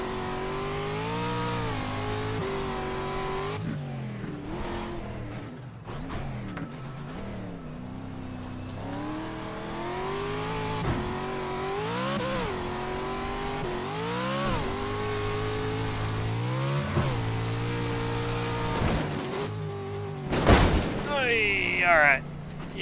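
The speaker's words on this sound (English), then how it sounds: "Got Dirty Dan Taylor here in this yellow truck chasing down Brad Peters" Pro 2 light trucks race at Talladega, engines droning and revving through repeated gear shifts as the pitch climbs and drops, with a loud burst near the end and commentary over the racing.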